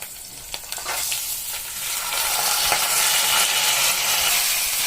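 Washed dal frying with chillies in a pan on low heat, a steady broadband sizzle that swells louder after a couple of seconds, with scattered scrapes and clicks from stirring to keep it from sticking.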